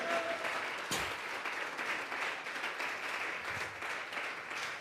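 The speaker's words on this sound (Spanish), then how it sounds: "Dele una ofrenda de palmas a ese Dios." A church congregation at a Sunday service gives God an offering of applause, a steady, full round of clapping from many hands filling the room throughout.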